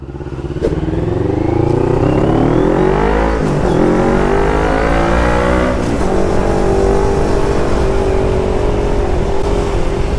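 A big bike motorcycle revs loudly close by, its engine pitch climbing and falling through gear changes as it rides off, with a steady roar filling the whole stretch and no talk over it.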